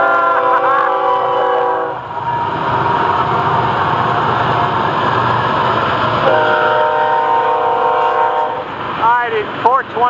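A passing FEC freight train rumbles loudly and steadily close by, its multi-tone horn blaring in long blasts at the start and again later, with bell-like ringing near the end.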